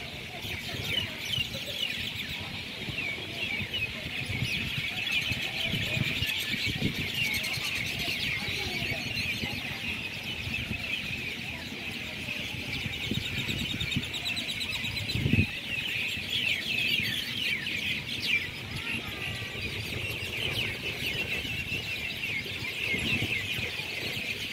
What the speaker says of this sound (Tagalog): Ayan po, maririnig nyo yung ingay po ng birds.